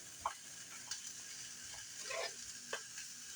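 Beef burger patty frying in a pan used for sautéing onions, a soft steady sizzle with a few light scraping stirs, faint and alone.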